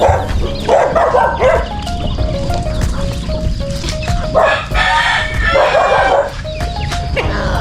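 Native chickens on a farm, with a rooster crowing loudly in repeated calls amid clucking hens and a dog barking nearby.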